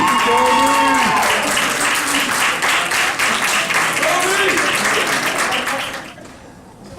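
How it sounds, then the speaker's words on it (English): Wedding guests at a reception applaud, a steady wash of clapping from a crowd that fades out near the end, with voices talking under it. "Big round of applause for Tony."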